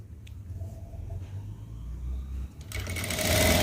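A sewing machine stitches a piece of fabric, its motor humming steadily at first and then running louder and faster toward the end, close and continuous with no talk.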